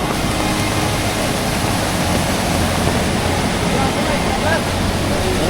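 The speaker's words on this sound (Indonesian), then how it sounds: "saking derasnya hujan ini, di sini tuh sebenarnya ada sungai kecil. Tapi malah jadi sungai besar kayak gini." A small stream swollen by heavy rain into a big, fast river on the slopes of Mount Dukono, roaring as steady, loud, broadband rushing water that stays constant and close throughout.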